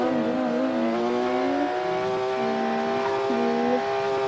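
Engine revving of a racing car in the Roblox game Feature Legends, a steady loud whine rising and falling through gear shifts, alone without talk.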